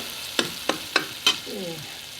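Tadka tempering for turnip saag sizzling in a pan, with four sharp spoon scrapes or clinks over a steady crackling fry, close and moderately loud, no talking.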